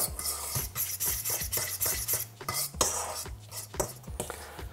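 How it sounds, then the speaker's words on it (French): A fork mixes stuffing in a bowl with quiet, rhythmic scraping and tapping strokes, close up, and nobody speaks. "Et à l'aide d'une fourchette, on va mélanger notre farce."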